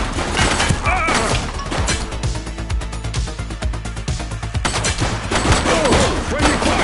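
Gunfire in the police video game The Precinct: dense, loud bursts of rapid shots and crashes running continuously, with faint shouting mixed in.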